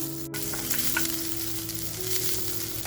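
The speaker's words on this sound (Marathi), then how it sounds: "बघा आपला पॅन छान गरम आहे, त्याच्यामुळे लसूण बघा पटकन फ्राय झाली आहे" Garlic fries in a little oil in a hot pan, giving a steady, close sizzle from start to finish with one sharp click near the start and no talking.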